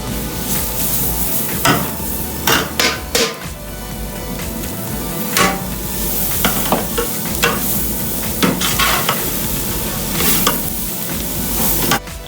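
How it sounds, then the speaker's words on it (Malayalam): Sliced onions fry in a pan for Kerala beef biryani, with a constant loud sizzle broken by repeated scraping and tapping of a spoon as they are stirred. "നമ്മൾ അരിഞ്ഞു വെച്ചിരിക്കുന്ന സവാള ഇട്ട് കൊടുക്കാം"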